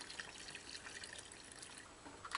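Gasoline poured from a chainsaw's fuel tank back into a bottle, a faint, continuous liquid trickle and gurgle with small splashes, heard close and alone.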